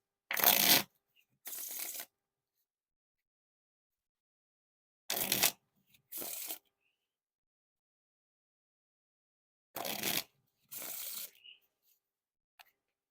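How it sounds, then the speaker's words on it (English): Bicycle Harry Houdini playing cards get three riffle and bridge shuffles, each a crisp fluttering burst followed by a softer cascading bridge, close and clear, separated by silence. "We're now on to the Riffle Shuffle or Bridge Shuffle."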